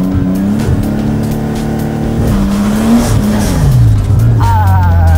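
Car drifting around a cone on a practice course, loud engine revs rising and falling with squealing, skidding tires throughout, close and intense.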